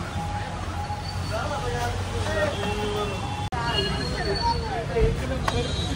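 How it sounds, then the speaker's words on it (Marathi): Busy indoor transit ambience with a steady hum and overlapping crowd chatter, footsteps and echoes, a brief sharp click midway, continuous throughout. "आलोय मेट्रो स्टेशनला"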